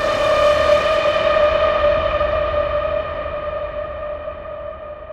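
A sustained synthesized siren tone holds steady with an echoing, processed timbre, slowly fading over several seconds.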